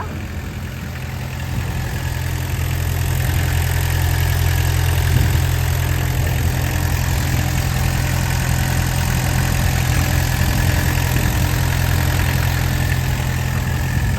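A 3.5-ton Dynapac CG16C II road roller with a four-cylinder engine idles steadily nearby, a low, even drone with a constant hum that runs alone throughout without any talk.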